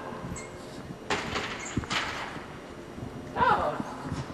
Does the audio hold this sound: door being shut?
yes